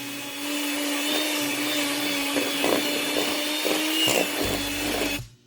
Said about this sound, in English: I mixed the 1 cup powdered sugar and the 8 ounces of cream cheese with the mixer for about 15-20 seconds.